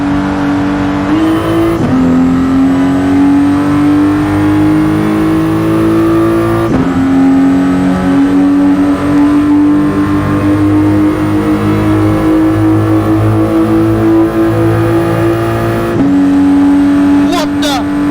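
Race cars in Gran Turismo Sport at a Nations Cup online round roar continuously with loud, steady engine drone and pitch shifts through gear changes, while excited commentary runs over the top throughout.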